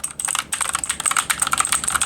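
Fast, continuous typing on an Aoki mechanical keyboard, crisp clicky keystrokes close to the microphone with no talk over them.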